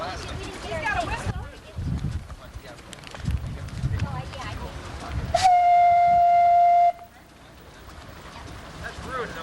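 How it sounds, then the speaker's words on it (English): An old boat's whistle sounds one loud, steady, tonal blast lasting about a second and a half midway through, with people talking before and after it. "He's got a whistle."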